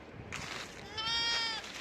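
A sheep gives a single short, wavering bleat close by, against a quiet outdoor background. A softer nasal call comes just before it.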